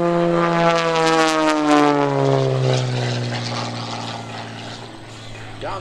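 An Extra 300 aerobatic propeller airplane performing at an airshow, a loud continuous engine drone whose pitch slides downward as it passes along the flight line, with a buzzy propeller rasp filling the whole stretch.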